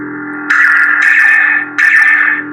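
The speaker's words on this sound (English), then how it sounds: "The Saber is super loud because this entire pommel is for sound resonance" An Obi-Wan Kenobi Proffie lightsaber with a vented pommel plays a loud, steady electronic hum with buzzing distorted swells that cut in, drop briefly and return, heard up close with no talking.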